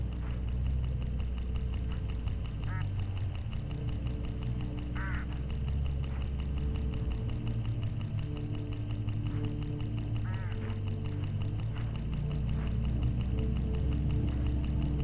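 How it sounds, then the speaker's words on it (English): Hooded crows call in a video game scene along a country road near farmland, with several brief, raspy caws rising over a steady, loud bed of low engine-like rumble and ambient noise. "Look, hooded crows all along this road."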